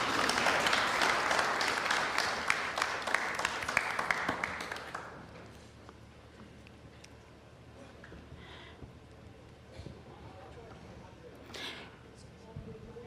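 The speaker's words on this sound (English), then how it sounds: "Let's give him a round of applause," An audience at an on-stage talk event claps loudly for about five seconds, then the applause fades out. Quieter room sounds and faint voices follow.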